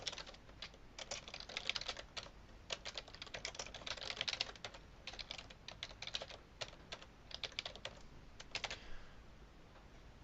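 Someone types connection parameters for a MySQL ODBC driver on a computer keyboard, with close, crisp key clicks in quick bursts and brief pauses, no talking.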